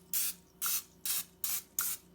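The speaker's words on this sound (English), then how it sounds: "I'm going to just spray a little more oil on top." Oil is spritzed from a spray bottle over lentil fritters laid in an air fryer tray: five short, crisp hissing bursts at an even pace, close and alone.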